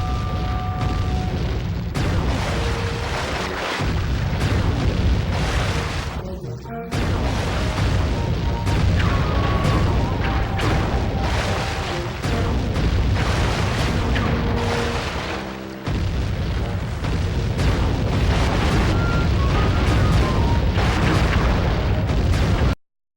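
A boat-mounted cannon fires again and again in the video game Sly 3, loud booming blasts rolling over a dense, continuous wash of game sound and music.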